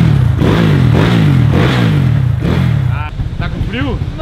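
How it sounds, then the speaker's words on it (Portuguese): A Today motorbike fitted with a new engine runs nearby, its uneven mid-pitched engine drone steady and loud, with people talking over it throughout. "vamos testar a motoca dele aqui então."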